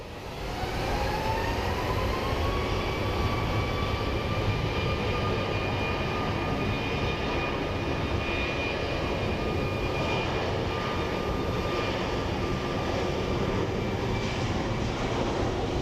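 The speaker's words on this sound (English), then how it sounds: "let's watch an American Airlines 737 takeoff." An American Airlines Boeing 737 MAX roars through its takeoff at Phoenix Sky Harbor International Airport, a loud continuous jet engine rumble with a rising whine held throughout.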